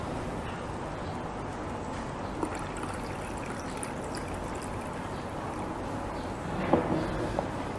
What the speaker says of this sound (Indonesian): Kemudian baru ditambahkan airnya sampai batas maksimal.